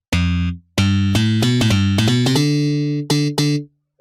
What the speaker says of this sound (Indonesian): Slap ini suaranya seperti ini.